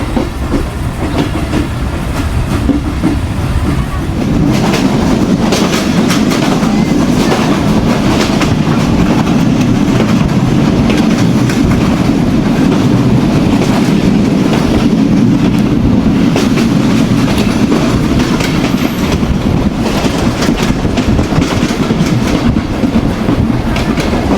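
Mahananda commuter train running between Khulna and Jessore, a steady loud rumble of wheels on track with faint clickety-clack, continuous and close throughout with no talk.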